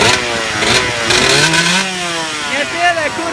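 A dirt bike's engine revs up and down close by as a learner rider works the throttle, rising and falling in pitch over several surges, with a voice talking over it.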